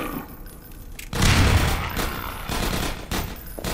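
Gunfire in the video game Half-Life 2: Episode One, a sudden dense burst of loud shots and booming impacts after a quieter start, continuing as rough, sustained fire with a few sharper cracks.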